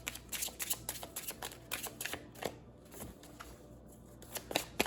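Animal spirit oracle cards shuffled and drawn, with a run of crisp, close riffling and flicking sounds in quick irregular bursts, briefly pausing before picking up again.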